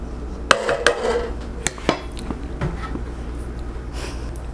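Metal utensil clinking and scraping against a pot while chicken pot pie filling is stirred on the stove, a few distinct knocks and clatters over a low steady hum.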